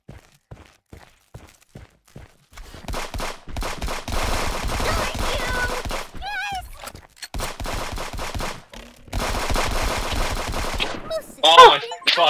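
Turret fire in the video game Friends Vs. Friends, sustained rapid automatic bursts after a few sparse thuds, loud and close, stopping briefly and resuming with electronic effects mixed in.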